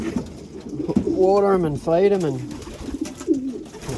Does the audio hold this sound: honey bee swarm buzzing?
no